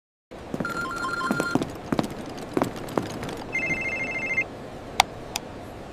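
A mobile phone rings with a repeating electronic ringtone of short bright bursts and tone patterns, fairly close, broken by clicks and a sharp chime near the end, with no talk over it.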